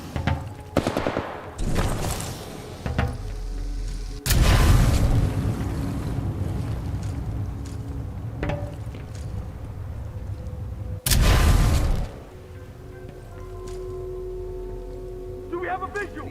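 Sustained gunfire and heavy explosions from a Titanfall 2 battle, loud bursts with two big booms, a rumbling, wind-like roar between them, and shouted voices over the noise.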